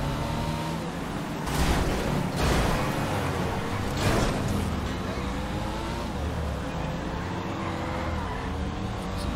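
A muscle car roars through GTA V street traffic, its engine loud and close, swelling and revving over a continuous road rumble with other vehicles around.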